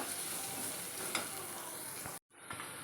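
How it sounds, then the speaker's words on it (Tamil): Onions sautéed with salt in a pan, a steady close sizzle with light stirring scrapes and a brief cut to silence before the frying resumes. "வெங்காயத்தை நல்லா வந்து ஒரு கிளாஸ் மாதிரி வதக்கிக்கலாம்."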